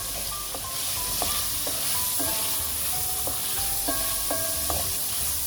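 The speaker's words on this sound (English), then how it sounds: "Stir and let it cook for a while." Broccoli sizzles and fries in a pan while being stirred, a steady, loud hiss broken by repeated sharp clinks and scrapes of a utensil against the pan.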